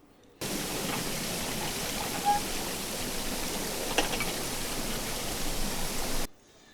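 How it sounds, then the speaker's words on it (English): A river waterfall recorded underwater, a steady dense rush of broadband noise holding evenly for about six seconds between quiet edges. "And this is the sound of a waterfall in a river."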